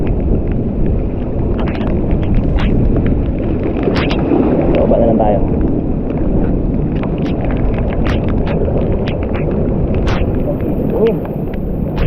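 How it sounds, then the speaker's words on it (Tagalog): Loud, steady wind buffeting the microphone in a constant low roar, with faint clicks and taps and a brief voice speaking partway through. "Ang hangin."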